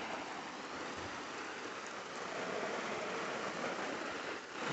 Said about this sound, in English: if it's raining this hard, you probably should close up the hatch